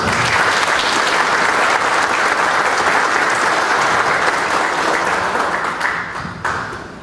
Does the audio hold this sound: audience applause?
yes